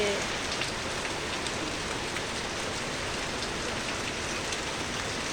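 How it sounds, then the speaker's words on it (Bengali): Steady rain patters on a surface, a dense even hiss that holds without a break from start to finish. "সবাই দেখো প্রমিত বৃষ্টিতে ভিজছে।"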